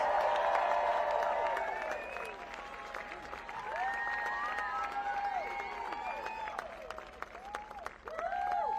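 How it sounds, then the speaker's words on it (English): Applause from a crowd at a political rally, clapping steadily and then tapering slightly, with scattered cheers and whistles rising over the noise. "Let's give Don a round of applause."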